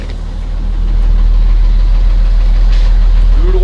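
A donated bus engine runs close by, rising at first and then settling into a loud, steady, low idling rumble that continues to the end without speech.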